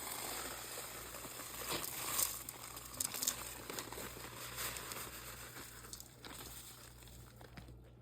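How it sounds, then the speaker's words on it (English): Graham crackers crushed by palm inside a Ziploc bag, giving a steady run of close crinkling and crunching plastic rustle for several seconds with no voices. "using the palm of your hand, crush up the graham crackers until they're into tiny bits, or look something like sand"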